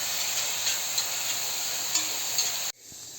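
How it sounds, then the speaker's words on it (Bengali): Jujube pickle frying with panch phoron in a wok, a steady sizzling hiss with faint stirring ticks, then cutting off abruptly near the end. "এবার কড়াই একটু পাঁচফোড়ন দিয়ে দেবো, দিয়ে এটাকে একটুখানি ভেজে নেব"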